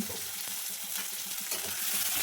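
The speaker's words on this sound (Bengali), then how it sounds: "ওই তেলের ওপর দিচ্ছি জিরে ফোড়ন পেঁয়াজ কুচি পেঁয়াজ কুচিটাকে একটু ভেজে নেব" Chopped onion and cumin seeds fry in hot oil, giving a close, constant crackling sizzle throughout with no voices.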